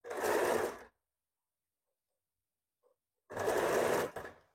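A sewing machine stitching a princess cut blouse in two short bursts of steady motor whir and needle chatter, close and clear, separated by a few seconds of silence.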